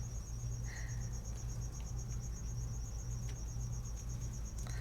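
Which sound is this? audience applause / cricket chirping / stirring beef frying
cricket chirping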